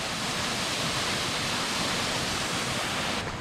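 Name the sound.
waterfall near Vatnajökull glacier, Iceland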